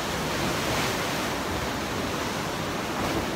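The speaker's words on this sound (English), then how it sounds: "By the sea." Sea waves wash onto the shore at Alicante, Spain, a steady broadband rush of surf with slight swells, close and fairly loud, with no voices.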